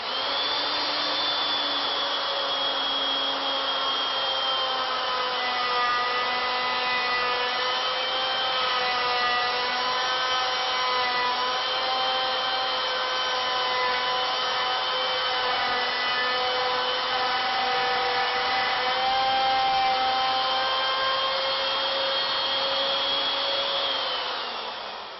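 A lathe with its tool locked to the lead screw cutting around the circumference of a wooden candlestick, a steady loud motor whine with a faint rubbing cutting sound, continuous for about twenty-five seconds, close and without speech.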